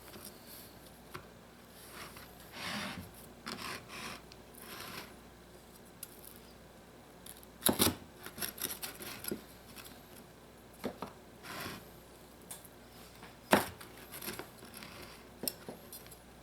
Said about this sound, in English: Now you're going to cut this into squares.